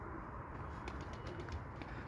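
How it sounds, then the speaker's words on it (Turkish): Pigeons in a coop coo softly against a dense, steady background hum, with a few faint flutters nearby. "Kuşlar da burada."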